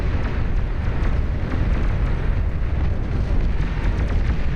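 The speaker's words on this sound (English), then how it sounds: "Nuclear launchers firing in mass." Massed nuclear launchers firing in the real-time strategy game Beyond All Reason, producing a dense, continuous, loud rumbling roar of overlapping launches with no pauses and no talk.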